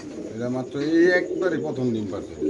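Caged pigeons, including racing breeds, coo loudly and close by at a pigeon sale, with a voice talking among the birds.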